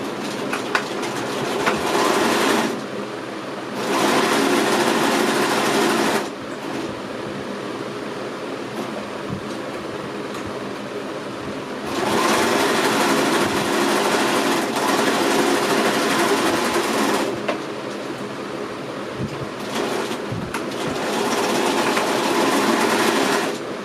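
Sewing machine stitching three sides of fabric pieces placed right sides together, a steady rapid mechanical chatter running in long bursts with short quieter pauses between them, close and without speech.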